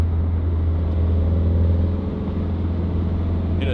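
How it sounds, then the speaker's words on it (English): Toyota 86 TRD sports car engine dropping a gear while driving, a steady low rumble and hum with a slight dip in level midway, close and continuous with no talking. "Hit a downshift right here"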